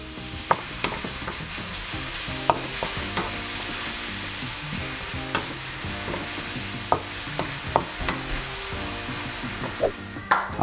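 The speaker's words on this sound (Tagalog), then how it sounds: "Tapos kapag nag-start na uminit yung kawali, haluin nyo na." Garlic frying in a hot pan while being stirred, a steady loud sizzle throughout with scattered clinks and scrapes of the utensil against the pan.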